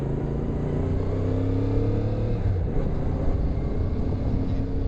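A CF Moto MT 450 motorcycle with its factory exhaust runs continuously while riding, a steady droning engine note with slowly shifting pitch, loud and close throughout.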